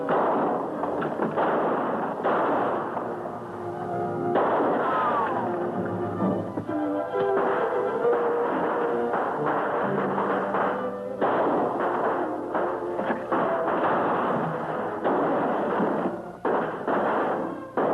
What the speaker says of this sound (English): Why did you give them the firecrackers?